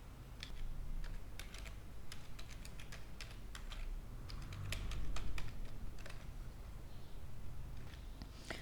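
Fingers type on a computer keyboard to enter an email address, names and a password, producing rapid, irregular clusters of close key clicks over a low steady background hum.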